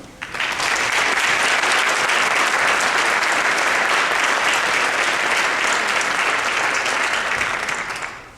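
A school auditorium audience at a National Honor Society induction breaks into steady, loud applause that rises quickly, holds for about eight seconds, and then tapers off, with no talking over it.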